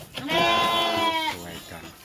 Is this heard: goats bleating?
yes